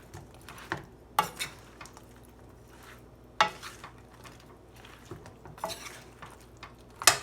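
A utensil stirs General Tso's tofu in a wok, giving intermittent scraping clinks and taps against the metal over a faint, quiet background, with a few sharper strikes scattered through the stretch.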